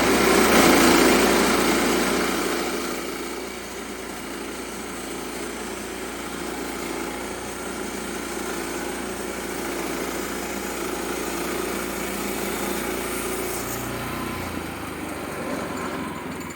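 A Wood-Mizer LX-25 sawmill cuts 1x12 boards from an 18-inch white ash log, its engine droning steadily with a louder blade bite at first, then a sustained even hum.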